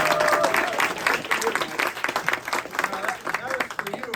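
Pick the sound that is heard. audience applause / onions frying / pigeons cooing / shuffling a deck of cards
audience applause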